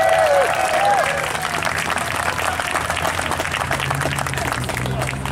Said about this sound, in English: how about one more round of applause for that fantastic piccolo solo?